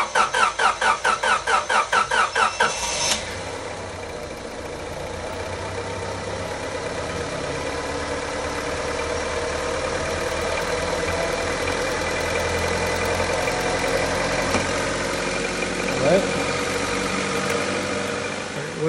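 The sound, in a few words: 2000 Honda Civic engine running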